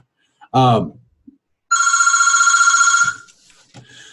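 Telephone ringing: a single loud, buzzy electronic ring trilling steadily for over a second, after a short spoken exclamation, then fading into faint background sounds.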